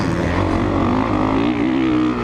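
A 2017 Honda CRF 450 motocross bike at a raceway, its engine droning loudly and steadily up close with a slowly shifting pitch and no pauses.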